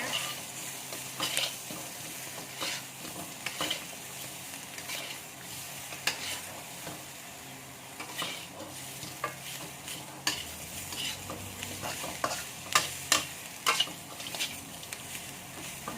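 Chicken wings being stir-fried with salt in a pan: steady sizzling under repeated scraping and tossing strokes of a utensil, close and moderately loud, with no talk.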